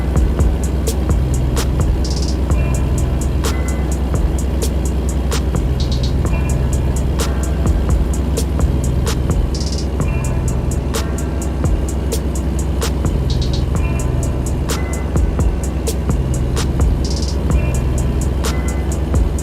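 Steady heavy truck engine droning at about 1500 RPM in American Truck Simulator, a continuous loud hum with a faint recurring click, no talking.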